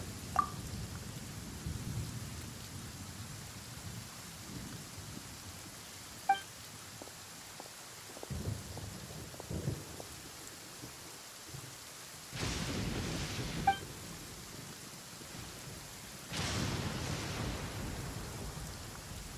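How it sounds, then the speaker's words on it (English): Steady rain from a Genshin Impact storm hisses throughout, broken by two long rolling thunder rumbles and a few sharp cracks, loud and close with no talk. "Ah, so the thunder we heard was you!"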